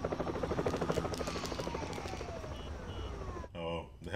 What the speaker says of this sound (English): Oh, the helicopter must be for the protest.